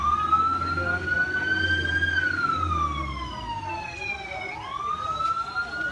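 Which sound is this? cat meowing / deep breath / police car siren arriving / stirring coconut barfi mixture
police car siren arriving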